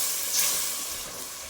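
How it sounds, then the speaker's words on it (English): Spices simmer with a little added water in a pot for chicken curry, producing a dense, loud, steady hiss and bubbling sizzle as they are stirred, with no voice over it. "I'm gonna mix this up."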